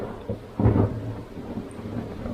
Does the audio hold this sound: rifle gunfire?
no